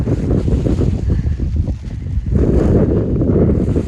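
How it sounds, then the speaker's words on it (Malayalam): Strong wind on a hilltop at Kakkadampoyil roars and buffets the microphone continuously, a loud broadband rush with gusts that dip briefly and then surge back harder. "പക്ഷെ ഇവിടുത്തെ കാറ്റ് ഒരു രക്ഷയില്ല"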